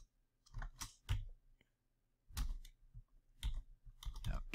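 Bursts of keyboard clicking, several quick clusters of keystrokes separated by short pauses, fairly close and moderately quiet.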